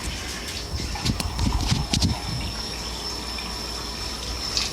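Warm water running into a vessel to activate yeast for homemade bread, a steady close splashing pour with a few brief clattering knocks in the middle, no talk.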